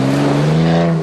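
An off-road rally vehicle from the RainForest 2004 event pulls away at the race start, its engine droning loud and steady at close range with strong sustained harmonics.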